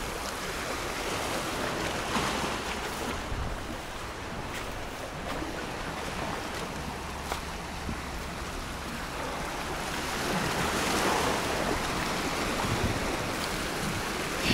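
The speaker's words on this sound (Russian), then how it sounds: "Вода брызгает." Sea water splashing against white pebbles and rocks along a sunny Alanya shoreline in Turkey, a steady broadband wash of surf and spray that holds near and even throughout, swelling slightly toward the end.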